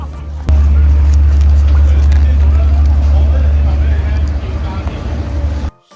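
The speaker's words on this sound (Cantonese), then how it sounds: "我哋架玻璃船已經到啦" A glass-bottomed water taxi boat arriving, a loud, steady low engine rumble with water noise, crowd chatter and voices mixed in, then cutting off abruptly.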